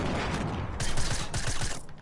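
Rapid bursts of loud close explosions and gunfire in a Fortnite battle, a dense crackling barrage over about two seconds with no talk.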